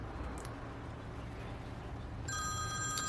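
A mobile phone starts ringing with an incoming call, a bright electronic ringtone that comes in near the end over a noisy, hissy background.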